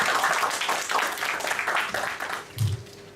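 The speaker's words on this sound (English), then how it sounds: "Give her a round of applause," Audience applause at a Toastmasters meeting, a steady patter of many hands clapping at moderate distance that thins out and fades toward the end.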